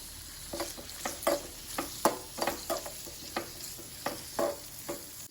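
Chopped onion and five or six peeled garlic cloves fry in hot oil for a radish masala gojju, with a soft continuous sizzle under a rhythmic series of close spatula scrapes and taps, about a dozen strokes, no talking.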